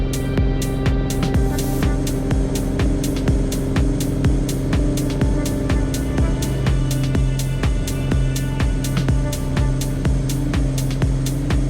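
A small aircraft engine roars at a steady loud drone during the takeoff roll, with a fast regular throbbing pulse running through the whole stretch and no voices.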